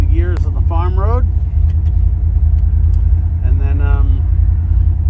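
A 1965 Ford GT40 Mk V road-tested on a farm road, its engine a steady loud rumble throughout, with someone talking over it at the start and again near the end.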